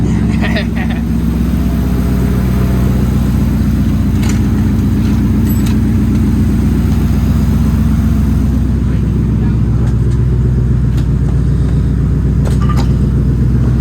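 A Mercury Grand Marquis with a five-speed manual, 92,000 miles, idles with a steady low rumble close by as it is eased forward out of its spot, while people talk over it throughout.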